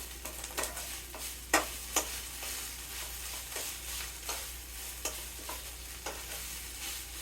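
Ground beef gets stirred in a hot pan with a utensil, soft scraping strokes falling every half second or so over a low, steady sizzle.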